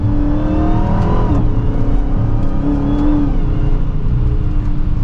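A 2023 Dodge Charger SRT Hellcat Widebody Jailbreak accelerates hard from inside the cabin. Its supercharged engine drones loud and constant, with audible pitch drops at quick gear shifts.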